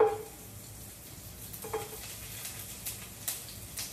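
Freshly sliced lemongrass hits hot oil in a pan with a steady sizzle and crackle, a few brighter pops and stir scrapes rising through the frying hiss, close and moderately quiet with no talking.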